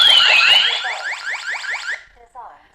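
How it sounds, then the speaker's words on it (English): A loud Ring home security alarm wails in rapid repeating sweeps for about two seconds, then cuts off, leaving a brief faint chirp afterward. "So we have disarmed the alarm now."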